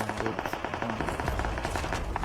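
Rapid automatic gunfire rattles in continuous bursts for the whole stretch, fairly quiet, with a faint voice mixed in.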